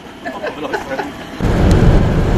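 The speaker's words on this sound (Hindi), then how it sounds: "मोटरवे वाले रोड पे बारिश शुरू है हल्की हल्की" Light rain falls on a motorway road on the drive from Islamabad toward Kashmir, starting as a softer patter and then swelling into a loud, dense, close hiss that lasts to the end.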